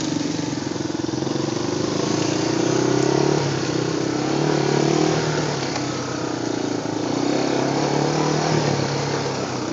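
A four-wheeler ATV engine drones loud and close without pause while riding a rough trail on Coal Mine Mountain near Gurley, Alabama, its pitch wavering slightly with throttle over the bumpy ground.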